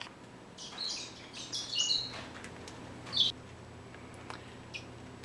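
Pet Bourke parakeets in an indoor cage give faint, scattered high chirps and short squeaks, a few quick calls clustered early and then sparse single notes against a quiet background.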